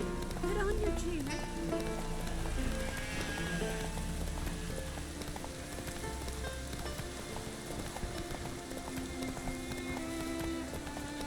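Steady rain in The Witcher 3 patters as a dense, even wash throughout, under a busy layer of game music and ambient effects, with a voice speaking briefly near the start.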